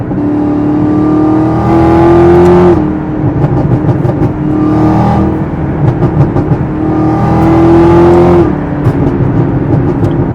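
A tuned Chevrolet Camaro ZL1 accelerates hard on a freeway, its engine rising in pitch through two pulls with a shift between them, loud and close from inside the car.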